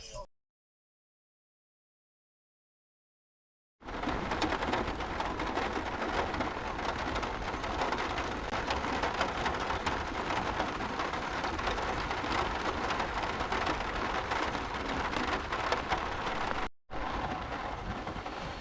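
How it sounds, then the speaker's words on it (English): A night thunderstorm with heavy, steady rain pouring down and faint thunder rumbling beneath, continuous and close after a silent opening, with a brief dropout near the end. "we're in the middle of a thunderstorm"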